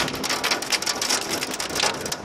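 Heavy rain mixed with hail pours down on a flooding backyard, a dense, close patter of drops with sharper ice ticks hitting surfaces throughout.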